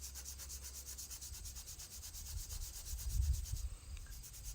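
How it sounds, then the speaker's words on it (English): A green rag loaded with paste scrubs surface rust off a knife blade in a steady back-and-forth rubbing rhythm, soft and close. It swells slightly near the end, with no voices. "take my green rag, get some of that paste on there, and I'm just coming through and scrubbing this down"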